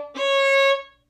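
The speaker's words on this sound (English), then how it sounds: "If your high D is out of tune, it's going to sound really kind of edgy and a little rotten" Violin sounding a high D against an open low D with the higher note out of tune, a single sustained bowed tone of about a second, bright and harmonically rich, swelling in and fading, played alone.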